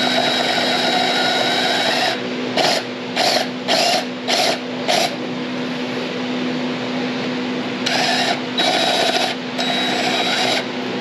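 A power drill with a wood bit bores through a rubber hockey puck, first whining continuously for about two seconds, then revving in five short bursts, and later in a few more quick bursts, loud and close.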